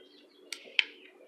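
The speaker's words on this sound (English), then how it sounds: "There's some birds chirping in the background." A couple of short, bright bird calls ring out against a soft, steady outdoor background, distant and fairly quiet.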